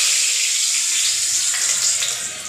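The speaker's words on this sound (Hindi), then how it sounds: "तो चलो अब हम डालते हैं पहले सबसे पहले लहसुन।" Garlic cloves drop into hot oil for an Indian tadka and sizzle loudly and steadily, a close, dense frying hiss that fades slightly at the end.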